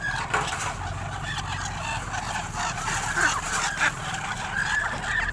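Pet ducks gathered and waiting to be fed, giving a steady stream of close honking calls over a continuous background din, with no talking.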